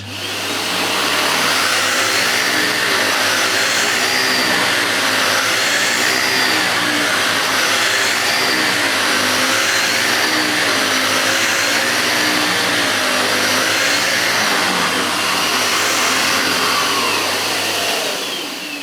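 A Numatic Harry vacuum cleaner runs on high power over carpet, a loud steady motor roar held throughout with slight shifts as the nozzle is pushed back and forth.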